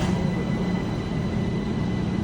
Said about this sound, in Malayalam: അപ്പോൾ നമുക്ക് ഈ ട്രെയിൻ പോകുന്നു ഗൈസ്